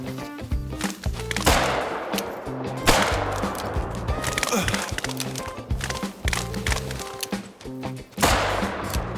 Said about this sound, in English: Two more shots made contact before he took off